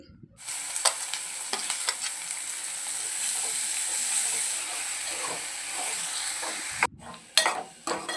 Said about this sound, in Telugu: ఇప్పుడు అదే ఆయిల్లో బాగా సన్నగా తరిగిన రెండు ఉల్లిపాయలు రెండు పచ్చిమిర్చి వేసుకొని బాగా ఫ్రై చేసుకోవాలి